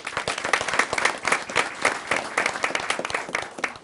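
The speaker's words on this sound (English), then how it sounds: "Okay, round of applause." A room full of people at a county commissioners meeting applauds, a dense run of hand claps at steady strength that rises and dips slightly over a few seconds.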